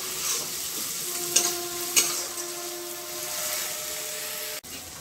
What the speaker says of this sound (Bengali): এবার দেবো এই দেখুন আদা আর কাঁচা লঙ্কা বাটা